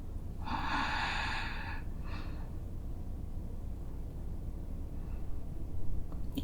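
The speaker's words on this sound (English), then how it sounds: "A couple more deep breaths." Slow, deep breaths taken while holding a twisting yoga pose, one audible airy exhale near the start, then a faint second breath, soft and close over a quiet room hum.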